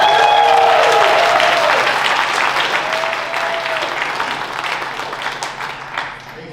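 A comedy club crowd at Laugh Camp applauds comedian Adam Tiller with loud, full clapping and a couple of whoops or whistles at the start. The clapping thins gradually and fades toward the end.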